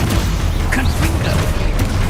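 A Confringo fire spell cast in Hogwarts Legacy, bursting in quick crackling booms and pops, with a spoken spell call close by and dense game effects around it.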